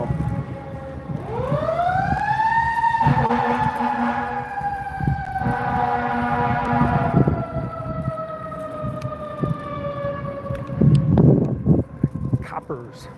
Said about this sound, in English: There's fire engines.